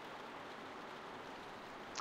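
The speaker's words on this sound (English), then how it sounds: "It's all rain, dark atmosphere." Steady, dense hiss of rain in the video game The Walking Dead Season 1 falls without a break, even and moderately loud, with a brief faint chirp near the end.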